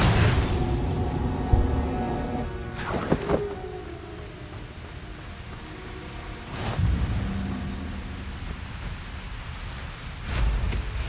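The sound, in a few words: Confringo blasting curse explosion in video game Hogwarts Legacy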